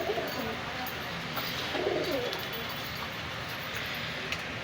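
Pigeons kept for high-flying breeds coo softly and fairly close, with a low rolling coo standing out near the middle over a steady noisy background.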